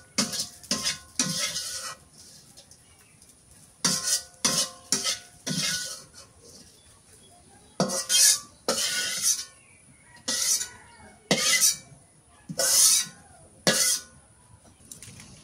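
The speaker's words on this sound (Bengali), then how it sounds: "নামাই নিয়ে শিলপাটায় বাইটে নিই।" Fried fish, onion and chilli are ground on a stone grinding slab with rhythmic scraping strokes in irregular bursts, some clustered and some spaced out, close and fairly loud with quiet gaps between.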